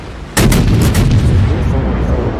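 Battleships firing heavy guns in a free-to-play PC naval combat game, a loud close salvo of booming blasts followed by a rumbling roar that fades slowly.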